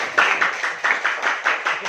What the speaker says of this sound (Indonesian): mari kita beri tepuk tangan untuk kelompok 2